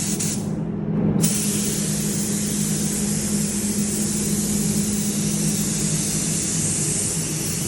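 An air spray gun at about 20 PSI coats a Toyota headlight, a close continuous hissing spray that starts after a short burst and runs steadily to the end.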